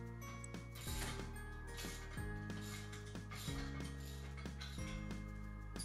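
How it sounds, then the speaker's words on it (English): Rhythmic ratcheting of a 17mm socket tightening a lock nut on an eBike rack, repeated mechanical clicks in bursts, close up with no talking. "tighten the lock nut using a 17mm socket"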